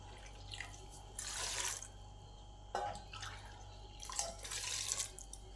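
Water poured into a pressure cooker holding cut ripe guavas and grapes for guava jelly, two short splashing pours a few seconds apart, close and moderately loud with no talking.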